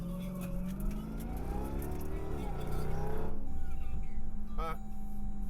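A Jeep Trackhawk's supercharger whines as the engine revs inside the car, a rising high-pitched whine over a rumbling engine, with people talking over it.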